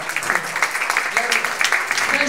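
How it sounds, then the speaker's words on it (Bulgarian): Audience clapping at a family gathering, a brisk patter of hands, fairly close and moderately loud, with some chatter underneath. "Аплодисменти за Самсунг, бе."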